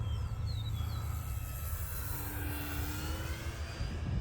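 An E-flite T-28 radio-controlled model airplane drones across the sky at a distance, a thin, faint motor whine that rises and falls gently as it passes during a knife-edge run outdoors.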